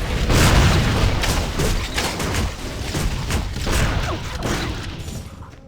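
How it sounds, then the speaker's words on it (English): A cannon fires in the video game Torchlight II, a dense run of heavy booms and blasts with crackling impacts, loud and continuous for several seconds. "It's basically just a cannon."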